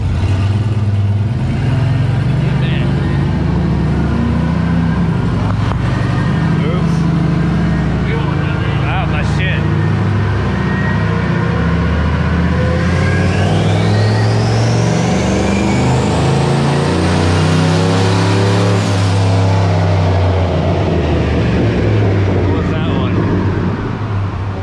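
Turbocharged 5.3L GMC Yukon with no other mods being driven, engine droning loud and close, then revving up with a rising turbo whistle and falling back, under continuous talk from people in the cab.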